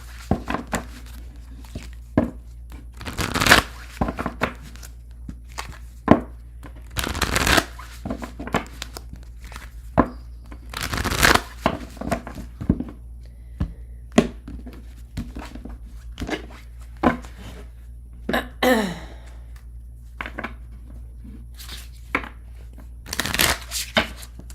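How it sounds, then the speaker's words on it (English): A deck of tarot cards shuffled by hand: repeated bursts of riffling and flicking spread over about twenty seconds, close and fairly loud, with quieter rustling and handling between bursts. "I'm going to shuffle"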